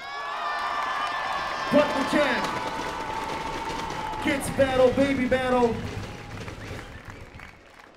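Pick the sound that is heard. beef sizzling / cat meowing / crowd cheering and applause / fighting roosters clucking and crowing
crowd cheering and applause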